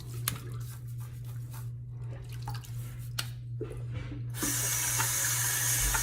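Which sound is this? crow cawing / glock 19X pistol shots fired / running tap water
running tap water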